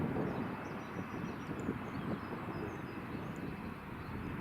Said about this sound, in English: So the KLM, after a go around, just managed to land it on runway 25